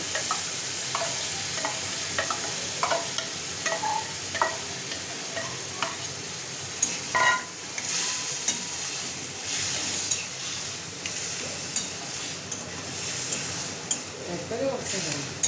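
Minced mutton sizzles and fries in an oiled pan with spices, a steady crackling hiss broken by scraping stirs and light clinks of a spoon, while a voice speaks intermittently over the cooking.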